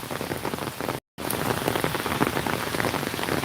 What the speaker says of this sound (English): I don't think anybody enjoys the rain.